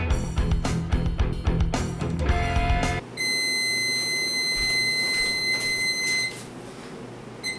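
A kitchen timer set for boiled eggs sounds a sustained, high electronic alarm tone for about three seconds and then stops, following a burst of busy, clattering music; no one speaks.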